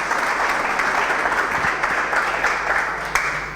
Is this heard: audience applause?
yes